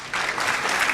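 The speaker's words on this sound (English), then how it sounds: "Let's give a round of applause to my panel." An audience applauds a panel in a short burst of clapping that starts abruptly and holds steady, indoors.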